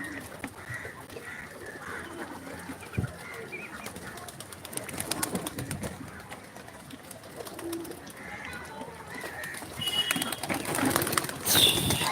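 Pigeons coo softly and repeatedly in a noisy outdoor setting, their low calls faint and partly masked by rustling and background clatter, with a louder burst of noise near the end.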